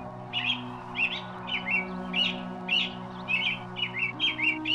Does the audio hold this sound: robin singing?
yes